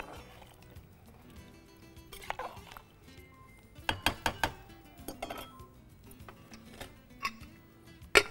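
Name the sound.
stirring millet and water in a pot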